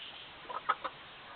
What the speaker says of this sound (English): but lots of roosters